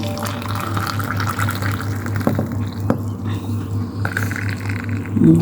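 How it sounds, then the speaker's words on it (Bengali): Tea with powdered milk pours steadily into cups, a soft continuous liquid trickle over a low steady hum, with a few faint clinks. "চা চাগুলো এখন ঢেলে নেব লিকারটা গুঁড়া দুধ সাথে"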